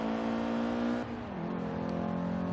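A nearly stock Nissan 240SX with an aftermarket intake and exhaust revs in the racing game Forza Horizon 3, its engine note holding a steady buzzing pitch, then dropping as the revs fall away.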